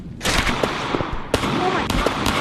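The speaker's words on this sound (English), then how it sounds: "The way we greeted each other by shooting each other in the face." Video game gunfire, rapid bursts of loud close shots in quick succession with sharp cracks over a dense, noisy backdrop.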